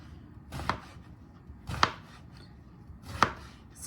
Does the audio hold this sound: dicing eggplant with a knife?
yes